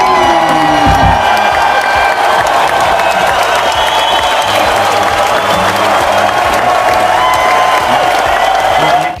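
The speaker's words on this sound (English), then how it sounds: "Big round of applause for Henry!" A school celebration assembly crowd applauds and cheers for a pupil, loud dense clapping with children's whoops and shouts running unbroken throughout.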